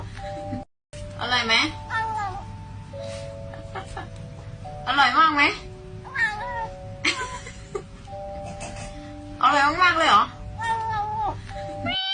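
A pet cat meows several times in a home clip, with drawn-out rising and falling cries spaced a few seconds apart over steady background music and a low hum.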